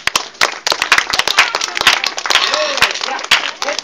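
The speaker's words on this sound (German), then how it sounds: "Applaus geht an Amadeus." Audience claps at a parrot show, sharp separate claps in an uneven patter at close range, with a parrot's squawks and chatter mixed in among them.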